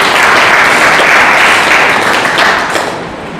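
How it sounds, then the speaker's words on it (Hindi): A church congregation claps in praise during a Hindi-language worship service, a dense, loud wash of many hands sustained throughout before easing slightly near the end. "ताली बजा कर प्रभु की महिमा करें"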